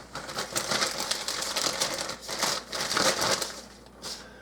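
A plastic Ziploc bag crinkles and rustles in steady close-up bursts as homemade chocolate cake mix is poured and scooped into it, with brief pauses between handlings.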